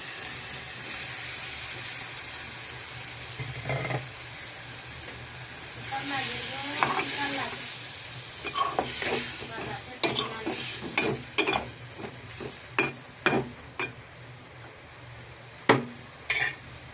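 Chopped tomatoes tipped into fried onions in a pan, giving a loud hissing sizzle that settles into repeated scraping stirs and knocks of the spoon against the pan, close by.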